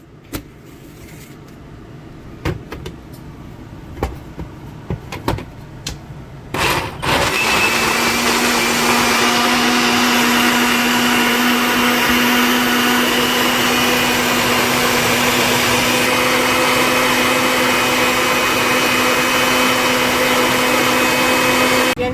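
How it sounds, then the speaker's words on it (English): A blender purees green enchilada sauce seasoned with ground cumin. A few clicks and bumps come first, then the motor kicks in at about seven seconds and whirs loud and steady to the end. "now I'm going to blend it"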